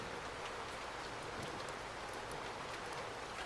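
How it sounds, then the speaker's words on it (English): Steady rain falls in the video game My GF: Another, a soft, even wash of droplets that continues unbroken and fairly quiet throughout, with no voices. "We walked together through the rain"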